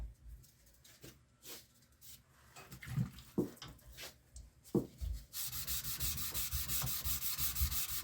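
Sandpaper rubbed by hand over a firearm's metal surface during block sanding, first scattered short scrapes with taps, then a steady, close, rhythmic back-and-forth rasp for the last few seconds.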